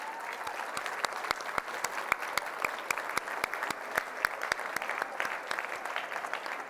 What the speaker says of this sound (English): give them a round of applause for helping you get here today